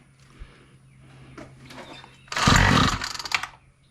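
A Craftsman weed eater under repair coughs to life after a pull, first faint sputters, then a loud, ragged burst of two-stroke engine revving for about a second before it dies back down.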